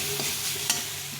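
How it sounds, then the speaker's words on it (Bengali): Leftover bread pieces fry in a pan with a splash of soy sauce, giving a soft continuous sizzle with a light stirring scrape, close and fairly quiet. "এটাকে একটু ভালো করে ভেজে নেব।"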